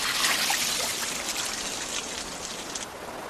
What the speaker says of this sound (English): ice farmers repeatedly douse specially designed wood racks with water